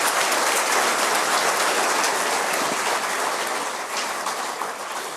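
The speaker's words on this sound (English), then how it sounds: "So a round of applause for our graduate people." Sustained applause from a large graduation ceremony crowd celebrating the class of 2017 graduates, a dense, even wash of clapping that holds steady for the whole stretch and fades slightly toward the end.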